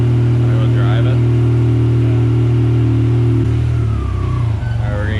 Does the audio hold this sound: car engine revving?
yes